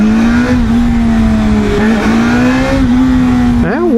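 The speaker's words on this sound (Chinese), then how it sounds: "然后我们在这里试一下油门" A ZXMOTO 500F Classic motorcycle with an inline engine runs close and loud at a steady hum, then gets a quick twist of the throttle that makes the pitch rise and fall at the end.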